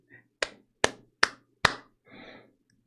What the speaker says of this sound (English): That was me clapping for your pun